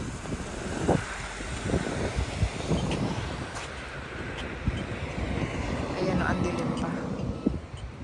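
Low, rumbling wind buffeting the microphone outdoors while cycling in Saskatchewan, a constant gusty roar with occasional thumps, speech faintly present.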